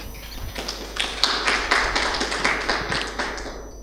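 An audience at a seminar presenting the "Give and Take" project applauds its initiator: a dense, steady patter of many hands clapping that swells after the first half second and holds for several seconds without talk.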